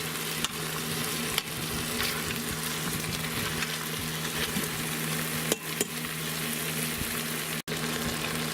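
Beer bratwursts browning in a pan, giving a constant close sizzle under a steady hum, with a few sharp clicks and knocks from turning them and no talk.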